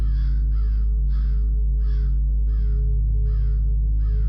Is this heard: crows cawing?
yes